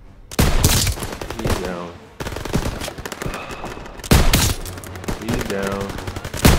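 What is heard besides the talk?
machine gun fire in Call of Duty WW2 video game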